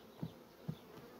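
Honey bees at a hive give off a faint, low buzzing, with two brief, slightly stronger hums rising out of the quiet drone.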